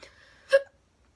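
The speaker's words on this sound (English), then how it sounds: "I'm going to do a hiccup count." A single short hiccup, a sharp voiced catch in the throat that pops up briefly and clearly, close and alone in near silence.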